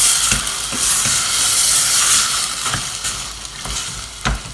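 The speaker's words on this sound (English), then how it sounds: "we're going to give it a stir with the chopped tomatoes in it" A spoon stirs minestrone soup with chopped tomatoes in a hot pot. A steady sizzling hiss runs throughout, broken by several sharp scraping knocks of the spoon against the pot.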